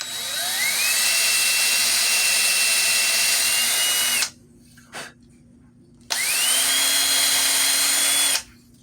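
A power drill countersinks holes in a 3D printed prop for a cosplay hand cannon, two long high whining runs with a short pause between, loud and close with no talking.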